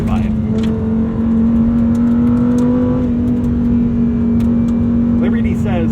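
Lamborghini Huracan STO supercar with a tuned exhaust, its engine droning loud and close with a steady hum and slight swells in pitch, overwhelming anything else nearby.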